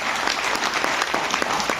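Loud applause from an audience at a cryptocurrency investment talk, a dense, steady burst of many hands clapping at once with no voices over it.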